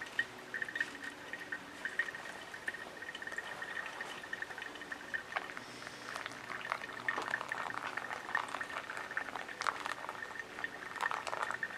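Hot water trickles and bubbles through coffee grounds in a slow pour-over brew, a soft, faint, continuous gurgling and dripping with a few brighter splashes, heard alone and close.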